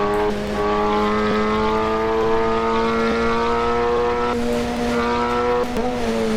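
A Honda Civic race car in Assetto Corsa roars through a tunnel, its loud sustained engine note rising slowly in pitch with brief shifts, echoing and continuous with no talk.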